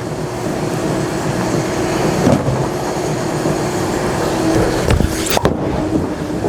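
A Swag Black Dragon Pearl bowling ball rolls down a lane on a house shot, a steady loud rumble that runs throughout, with a sharper clatter near the end.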